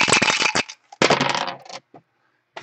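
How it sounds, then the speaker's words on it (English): Dice shaken and rolled across a table during a 7-Box Football mixer game, heard as two loud bursts of hard, rapid clattering, the second longer, followed by a few faint stray clicks as they settle. "Let's roll some dice."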